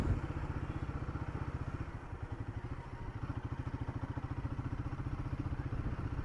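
A motorcycle engine runs in second gear, a fast regular chugging beat with clattery mechanical ticking, close and steady throughout.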